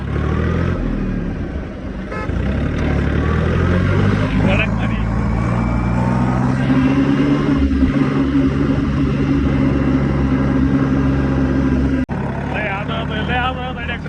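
A new tractor drives along with its engine droning and rising in pitch as it picks up speed, loud and near, with people talking over it.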